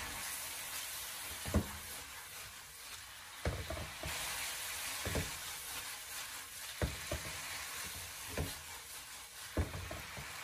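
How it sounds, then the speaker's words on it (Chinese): Carrot and pork slices with garlic leaves are stir-fried in a wok: a soft, continuous sizzle broken by repeated sharp scraping and tossing strokes at irregular intervals. "然后立刻快速的把它翻炒一下，将它翻炒均匀，将里面的蒜叶翻炒至断生"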